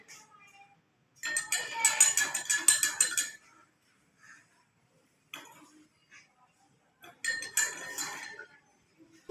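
Metal spoon clinking against a glass of water while stirring in sugar, two bursts of rapid, bright clinks separated by quiet pauses, with a few faint light taps in between.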